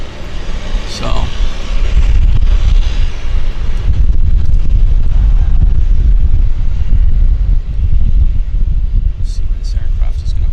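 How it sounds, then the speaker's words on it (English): Strong wind blows steadily at a harbour floatbase airport, a loud, constant roar buffeting the microphone throughout, with no one speaking over it. "over the last half hour, maybe 40 minutes, the wind has picked up"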